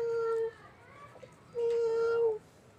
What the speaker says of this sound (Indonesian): Itu suara kucing ya